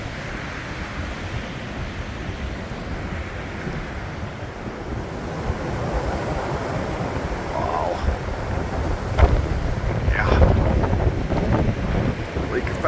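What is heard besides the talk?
wind blowing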